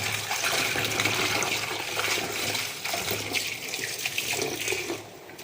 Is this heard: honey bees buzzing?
no